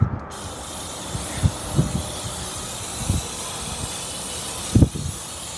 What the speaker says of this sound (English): spray some brake clean, get all this clean